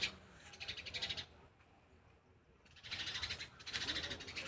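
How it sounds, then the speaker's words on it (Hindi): Many birds chirp in a grove of lemon trees, bursts of close, bright calls coming in two busy spells with a quieter gap between them. "और चिड़िया के बीच में चहचहा रही हैं पूरी"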